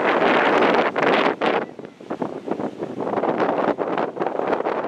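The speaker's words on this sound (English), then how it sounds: "And it's really windy right here." Strong wind buffets the microphone on a beach balcony in Panama City Beach, Florida, a loud, continuous roar with gusty surges and brief dips, no voices.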